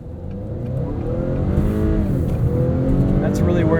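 A 2021 Acura TLX Advance SH-AWD accelerates hard, its engine note rising steadily, with loud, close cabin and tyre noise and a voice talking over it.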